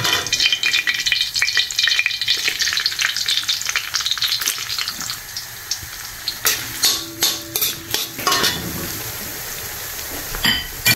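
Onion and garlic dropped into hot oil, a loud crackling sizzle that gradually settles, followed by a run of rhythmic scraping stirs and clacks of a utensil against the pan, close up and without talking.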